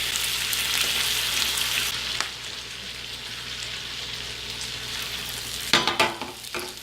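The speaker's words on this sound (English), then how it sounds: "We got our skillet nice and warmed up. Let's cook up a few slices here." Bacon slices sizzle and crackle in a hot skillet, a loud, steady frying hiss running throughout, with a few sharper pops and clatters near the end.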